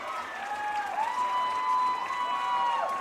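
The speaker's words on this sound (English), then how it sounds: "cheers from the CUC crowd as the touchdown is confirmed" A college football crowd cheers and applauds after a confirmed touchdown, a steady wash of distant stadium noise with whistle-like tones weaving through it, no voices standing out.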